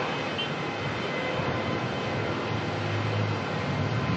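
A Jetstar Airbus A320 arriving at Melbourne Airport from Adelaide gives off a steady, moderately loud engine roar, an even broadband rush lasting the few seconds with no talk over it.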